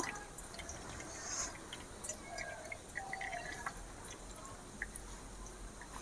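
Fresh chhena cheese curds squeezed by hand, with water dripping and trickling away in faint, scattered drips and soft squelches at close range, with no talking.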